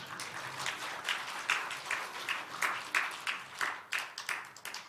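Steady applause from a church congregation during a service, with bursts of clapping swelling and fading in irregular waves, no talking over it.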